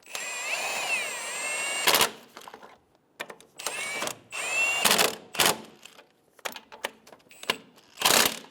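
Short bursts of a power tool snugging engine mount bolts on a 2011-2014 Hyundai Sonata passenger side mount, several separate whirring runs with pauses and clanks between them, close and fairly loud.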